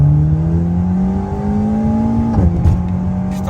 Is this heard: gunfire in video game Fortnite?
no